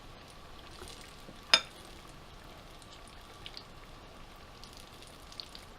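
A chile relleno with an egg-white coating fries quietly in grease, giving a faint, steady crackle with one sharp click near the start and scattered small pops.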